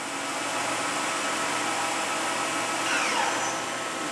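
A Daewoo ACE-H100 horizontal machining center spindle spinning at 1,500 RPM gives a steady broadband whir with a faint low hum, holding even and unbroken throughout.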